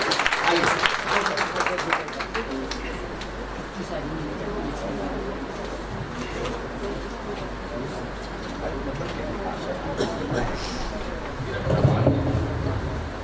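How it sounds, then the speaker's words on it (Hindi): An audience at a book launch applauds to greet lyricist Vijay Bagri, with scattered claps that thin into a murmuring crowd hubbub and voices, then a low rumble near the end. "आदरणीय विजय बागरी जी, तालियों के साथ हम अभिवादन करें।"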